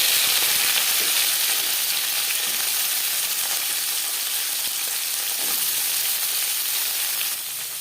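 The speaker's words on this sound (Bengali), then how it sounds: "রিফাইন্ড অয়েল গরম করে নিয়েছি। সবার প্রথমে উচ্ছে ভেজে নেব।" Bitter gourd fries in hot refined oil with a loud, dense, unbroken sizzle that hisses steadily from start to finish.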